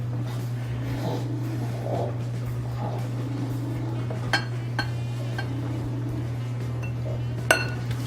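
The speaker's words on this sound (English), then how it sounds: "And we're just gonna mix." Lime juice is mixed in a bowl, with light clinks and stirring taps against the bowl over a steady background hum.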